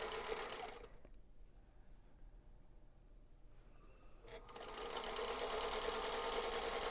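A sewing machine stitches a scant quarter-inch quilting seam, whirring steadily up close, then pausing to near quiet for a few seconds before starting again and running louder to the end.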